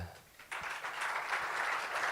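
An audience at an Argentine construction industry meeting in Corrientes breaks into steady applause for the head of the local chamber, with a dense, even patter of many hands that rises after a brief quiet start and holds fairly softly.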